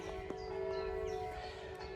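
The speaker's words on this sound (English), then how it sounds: "So beautiful to hear the church bells ringing in the background." Church bells ring at Passchendaele, a steady faint metallic tone sustained under outdoor background noise, distant and low in level, with no speech.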